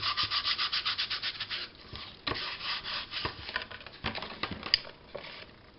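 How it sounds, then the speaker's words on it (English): Steady rhythmic rubbing of sandpaper on a wooden craft piece, close up, with quick regular strokes at first, then slower, uneven scrapes and a few light knocks. "I think it needs a little bit more sanding"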